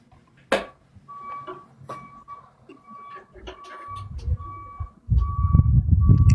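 A truck's reversing beeper sounds in repeated regular tones from a moderate distance, with scattered clatter and a low rumbling noise rising toward the end.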